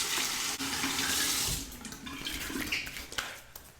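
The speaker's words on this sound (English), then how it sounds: "Cold water rinse to the face." Tap water pours steadily into a sink for a cold water face rinse during a wet shave, a close, continuous splashing rush that eases slightly and turns more spattery toward the end.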